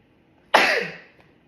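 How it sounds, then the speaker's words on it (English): A single sharp, explosive sneeze bursts out abruptly, then trails off quickly into quiet. "I'm gonna sneeze."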